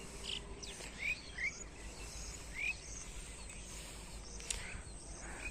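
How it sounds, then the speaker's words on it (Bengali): Birds in open farm fields on a morning, with a few faint, brief chirps rising over a steady hiss of crickets and insects. "চারদিকে পাখি কিচিরমিচির করছে"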